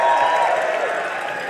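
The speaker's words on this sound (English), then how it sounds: "let's hear it from the crowd." A crowd cheering and clapping in a FIRST Robotics Competition district event arena, a loud, continuous roar of voices and applause that fades slightly toward the end.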